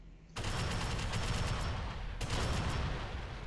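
A turret in the sci-fi shooter Alien Swarm: Reactive Drop opens fire, a sudden, dense, continuous stream of rapid shots that stays loud and close throughout.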